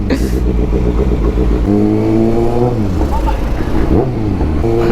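A Kawasaki Ninja ZX-6R 636cc sport motorcycle engine revs up and down in sharp throttle blips, its pitch sweeping higher then dropping, loud and close, with someone talking over it.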